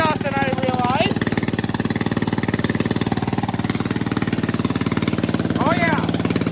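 A Bolens garden tractor engine with a homemade exhaust runs with a loud, steady, rapid chugging throb close by, while a voice speaks briefly over it near the start and again near the end.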